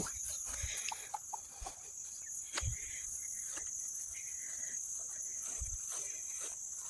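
A hen clucks softly in short intermittent bursts amid steady outdoor insect buzz and faint background noise.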